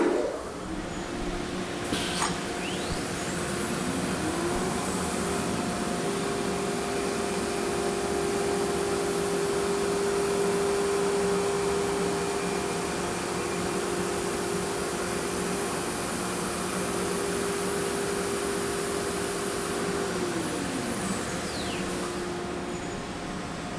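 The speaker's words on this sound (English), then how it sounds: "We'll use the clicker to start the machine, which will etch our cut line into the wasteboard." A Thermwood CNC cut center etches a cut line into a wasteboard, heard as a steady machine whine and broadband hum with a sustained tone that ramps up, holds, and ramps down, loud and continuous with no talk.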